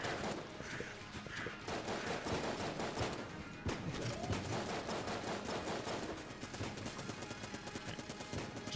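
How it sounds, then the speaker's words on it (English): Explosive weapon fire in the twin-stick shooter Enter the Gungeon, a continuous dense barrage of pops and blasts layered with game music, steady and moderately quiet throughout. "That was a lovely explosive shot right there."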